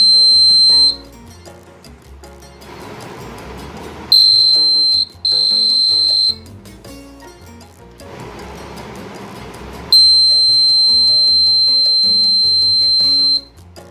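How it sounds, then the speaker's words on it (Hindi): A laser LDR security alarm sounds in loud, steady high-pitched electronic tones, switching on and off in several long blasts separated by quieter gaps with faint background music. "अभी हम जैसे ही लेज़र लाइट को इंटरप्ट करेंगे तो अलार्म जनरेट होगा।"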